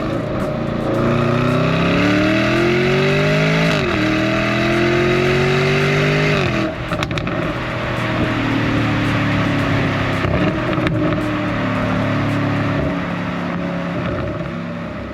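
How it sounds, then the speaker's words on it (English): Lamborghini Urus Performante with its 4-liter twin-turbo V8 roaring hard on an open road, the engine climbing through rising revs, dipping at a shift, then pulling again with a loud, sustained drone close up. "Under the hood, this beauty uses a 4-liter V8 twin turbocharged, making 657 brake horsepower and 627 pound-feet of torque."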